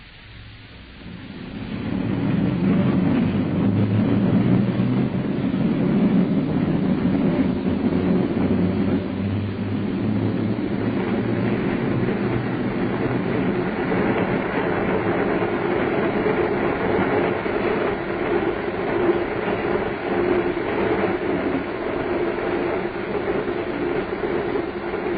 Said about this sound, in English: The Flying Scotsman was 2 hours late.